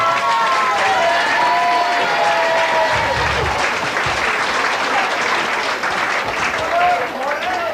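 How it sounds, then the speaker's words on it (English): Applause from a party crowd at a 1986 hotel staff party, dense steady clapping with whistles and cheers carrying through for the whole stretch, loud and close. "Big cheer for Sultry, please."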